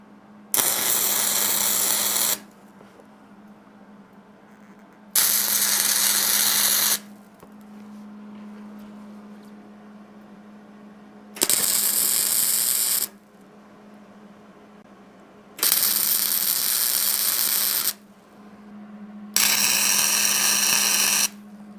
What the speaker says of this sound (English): Let's do some tacking.